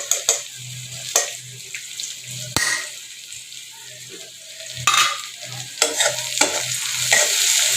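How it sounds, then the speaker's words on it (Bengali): Homemade ghee sizzling in a frying pan while a spoon stirs and scrapes in irregular strokes, close up, with a bright frying hiss and occasional clinks; no one speaks. "একটু ঘি দিয়ে দিলাম।"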